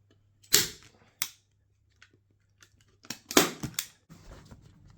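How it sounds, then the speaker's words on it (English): A staple gun fires staples through stretched fabric into a dining chair seat, giving several sharp, close snapping clacks at irregular intervals, a few in quick succession, with faint handling noise between them. "So next you can stretch the material, add a staple"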